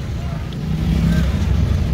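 Car engine rumbling steadily as the vehicle is driven through a crowded market, fairly loud and close, with a voice talking over it.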